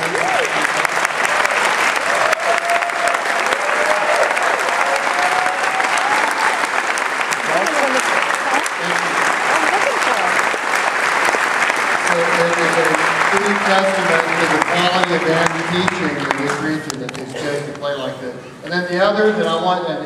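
A concert audience gives band directors a long, loud round of applause, steady clapping that thins out near the end as a voice begins speaking over it.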